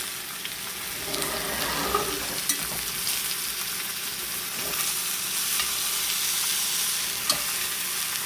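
Chicken sizzles loudly and steadily in a cast iron pan as it is flipped, a constant broadband fry crackle with a few sharp clinks and scrapes of the pieces being turned, no talking.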